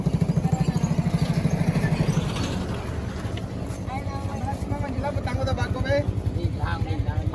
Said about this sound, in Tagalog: Grabe yung mga motor oh.